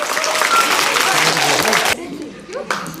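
Loud, sustained applause from a school crowd at a school election result announcement, steady clapping that drops off abruptly near the end, leaving a brief quieter gap before another burst.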